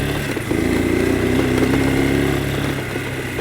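A Spark motorcycle engine runs steadily and close, its mid-pitched tone rising slightly as if briefly revved, with no one speaking.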